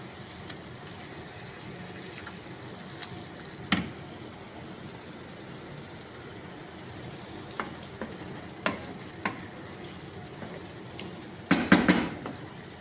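Fish pieces frying in oil in a pan for fish curry give a steady, close hiss, broken by occasional sharp pops and a brief cluster of spatter and clatter near the end.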